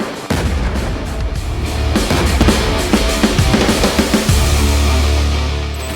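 Heavy explosions and booming artillery-like blasts from precision bombs striking enemy bunkers in a military operation, dense rumbling impacts and crackling bursts, ending in a low sustained roar.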